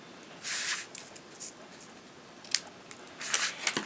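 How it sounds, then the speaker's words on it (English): Scissors trimming the edges of a handmade poppy slider card, with several short crisp snips and cuts in quick succession, close and fairly quiet, no talk. "then we can trim our edges."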